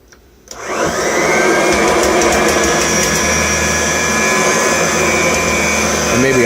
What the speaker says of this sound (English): we'll vacuum up a little bit of this stuff on the floor here